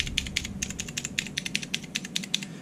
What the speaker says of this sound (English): once you mount them on a plate, they get to sounding pretty clicky